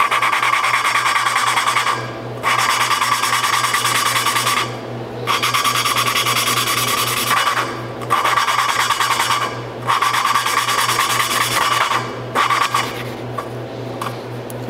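An engine valve being lapped against its seat by hand: repeated gritty, rasping strokes about two seconds each, broken by brief pauses, with a low steady hum underneath.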